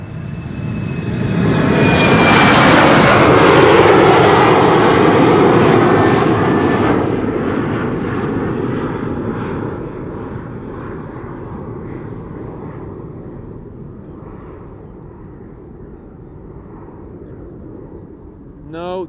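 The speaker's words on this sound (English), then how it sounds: "Embraer 190 to Stavanger." An Embraer 190 jet departing Schiphol Airport, a loud engine roar that swells within the first seconds, peaks, then slowly fades as it climbs away.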